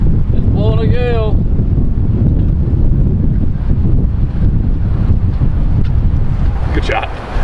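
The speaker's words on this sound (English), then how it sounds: "It's blowing a gale." Strong gale wind buffeting the microphone with a heavy continuous roar, and a voice briefly speaking over it near the start.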